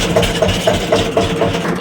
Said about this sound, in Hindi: ट्रैक्टर मैंने स्टार्ट खड़ा कर रखा